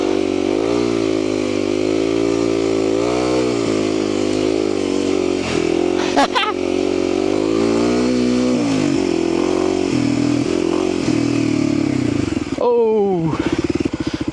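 A small motorcycle labours uphill, its mid-pitched engine droning steadily close by with rising and falling revs and one sharp surge of throttle near the end.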